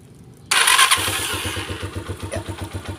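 A motorcycle engine is restarted: a sharp starter crank kicks in, then the engine catches and settles into a steady, pulsing idle, close and loud with no talking.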